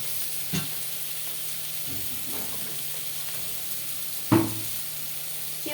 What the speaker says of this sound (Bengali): এই যে আমি এই যে ভেজে নিলাম।